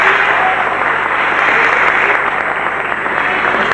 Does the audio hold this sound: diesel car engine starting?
no